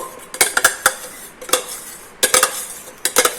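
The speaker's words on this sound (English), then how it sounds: "Now we'll add all this oil and give it a nice mix." Groundnut oil being mixed into mango pickle in a metal vessel, with a spoon clanking and scraping against the sides in irregular bursts of sharp metallic knocks, close and alone.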